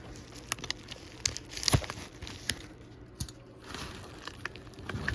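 Cardboard and tape wrapping pulled off a Yaesu SM-5000 radio display, close crinkling and tearing with scattered sharp crackles and rustles, no voices.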